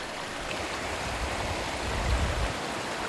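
Mountain stream rushing over rocks and stones, a steady broadband wash of flowing water with a deeper low rumble, close and continuous, with no voices.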